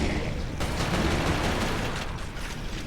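A grenade blast in the shooter game Resistance: Fall of Man, heard as a dense, rumbling burst of loud crackling noise with a sharp edge partway through, and no voices.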